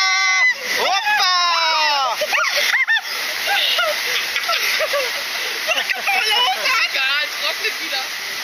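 Water rushes and splashes loudly and continuously on the Rio Rapidos rapids boat ride by Kaiser at the 2018 Rheinkirmes fair in Düsseldorf, with riders shrieking and shouting over the spray throughout.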